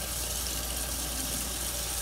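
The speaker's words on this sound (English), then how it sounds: "Run cold water." Cold water runs from a kitchen tap into a pot in a steady, close, unbroken hiss of flow, with no talking over it.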